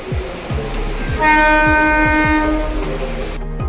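A train horn blares loudly for a couple of seconds over the rhythmic clatter of rolling wheels on the rails.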